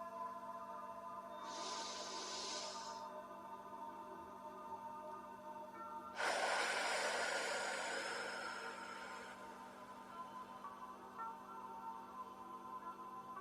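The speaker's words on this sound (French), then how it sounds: "En inspirant par le nez, en bloquant 2-3 secondes sa respiration et en expirant par la bouche." Two slow breaths during guided meditation: a soft airy inhale through the nose, then after a pause a louder, longer exhale through the mouth, close and alone over a faint steady hum.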